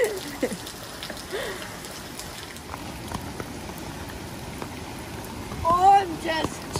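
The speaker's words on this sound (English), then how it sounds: "I'm just generating some rain." Rain-like patter of water being deliberately produced outdoors, a steady wash of hissing droplets with a louder splashy swell near the end.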